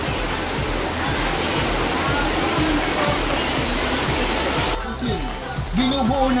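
Heavy rain pours in a constant roaring wash, close and loud, with a brief shift near the end as a muffled voice cuts in.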